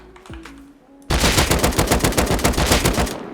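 Automatic gunfire in the video game Rust, shooting at training bots: after a brief quiet moment a loud, rapid burst of shots erupts and continues in a steady fast rhythm to the end.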